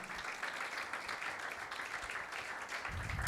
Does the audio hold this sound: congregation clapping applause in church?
yes